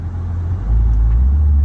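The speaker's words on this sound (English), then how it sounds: "E-Ray launch." A 2024 Chevrolet Corvette E-Ray launching from a standstill at a track entrance: a deep, steady engine rumble that swells noticeably louder about a third of the way through and holds there, close and heavy.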